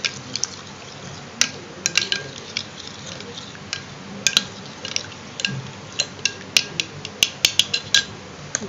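Coconut oil being mixed in a bowl for a hair regrowth formula, heard as a series of close, sharp clicks and taps of a utensil against the bowl, growing more frequent toward the end over a quiet background.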